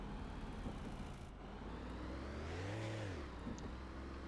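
Car driving off in the Car Dealer Simulator video game: a steady engine hum under a broad hiss, with a revving surge that rises and falls near the middle before settling back to a low drone.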